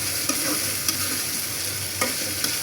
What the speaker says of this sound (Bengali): আর দিয়ে দিচ্ছি টমেটো। ট্যাংরা ভুনায় টমেটো ভালো লাগে, টমেটো ছাড়া অসম্পূর্ণ লাগে। তো যাই হোক, মশলাটা একটু কষাচ্ছি।